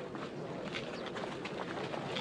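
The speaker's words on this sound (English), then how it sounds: "And the birds of the air devoured it." Pigeons or doves softly cooing amid a faint rustle as they feed on scattered grain along a path, a steady low murmur with no other sound over it.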